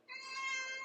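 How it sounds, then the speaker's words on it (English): A pet cat gives a single short, clear meow that rises and holds briefly, fairly soft and heard alone in a quiet room. "That's my kitty cat."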